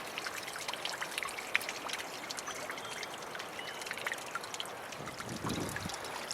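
Water trickles and drips steadily from pond weed held just above a garden pond on an allotment, a continuous close splashing patter with faint birdsong in the background.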